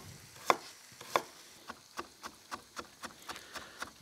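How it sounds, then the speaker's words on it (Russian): Carrots being cut into small cubes with a knife on a cutting board: two firmer chops followed by a steady, fairly quick run of light, evenly spaced knife taps, close and quiet. "Теперь я начинаю нарезать овощи. Ну, могу начать с морковки."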